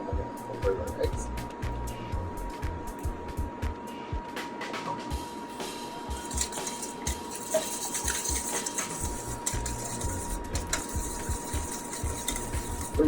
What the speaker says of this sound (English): The reason I'm doing it with a small whisk is because normally I would have done this at home with a KitchenAid